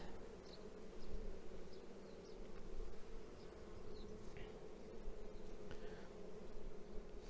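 Honeybees buzz softly and continuously around an open hive frame in early spring, a low steady hum with a few brief louder passes of individual bees close by.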